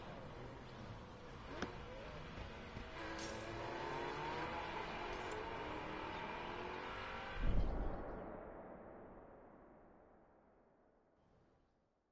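Ferrari F50 engine in The Crew Motorfest, a steady, fairly quiet whirring drone that swells to a brief peak about two-thirds through, then fades steadily away into near silence.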